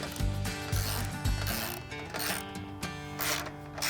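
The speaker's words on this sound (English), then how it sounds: "we'll use our 17mm wrench to tighten that into place" A 17mm wrench ratchets a bolt and nut tight on a modular metal gate, giving a steady series of close mechanical clicks and clunks that run throughout.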